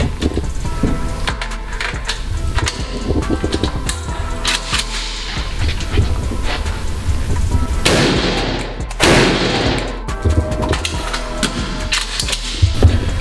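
A Zastava AK-47 rifle firing 7.62x39 rounds at body armor during a penetration test, with loud sharp gunshots cracking out one at a time at irregular intervals and echoing over a steady background.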